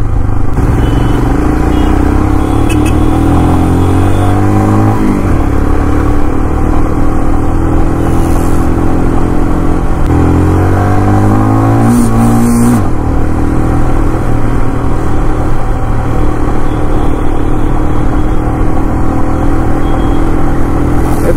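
Royal Enfield Himalayan 450 motorcycle engine drones steadily while riding, with two rising rev sweeps as it accelerates through gears, loud and close throughout with wind noise.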